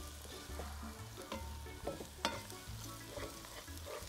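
Garlic frying and being stirred in a pot for Trini pumpkin talkari, with soft steady sizzling and a few sharp spoon scrapes and clicks against the pot, close and moderately quiet.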